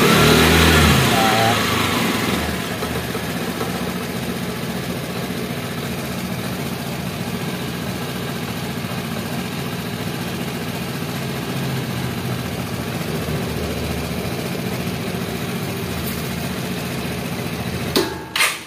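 A Vespa scooter engine running steadily at a loud, sustained level, with a brief swell near the start and a short burst at the end, with no talk over it.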